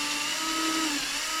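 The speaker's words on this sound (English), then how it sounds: "what I'm doing now is pre-drilling holes in the guides" A power drill whirs steadily while pre-drilling holes in wooden guides for a table saw sled, a continuous high-pitched motor whine with a slight pitch sag midway, close and alone.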